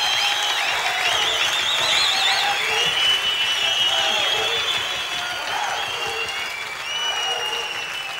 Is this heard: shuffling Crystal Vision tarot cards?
no